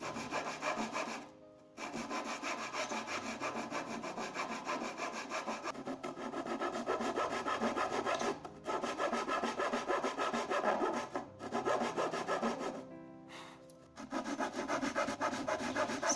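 Hand sawing and light sanding of wood pieces for a two-tiered kitchen tray, steady close rasping strokes running almost continuously with a few brief pauses, no talking.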